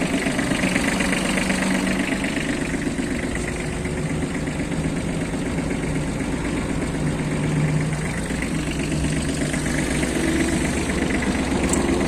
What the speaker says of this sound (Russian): Первую скорость включили. Фреза крутится.